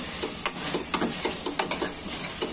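Vegetable mixture with cashews roasting in a pan, a soft continuous sizzle broken by light scraping stirs every half second or so, close and fairly quiet with no talking.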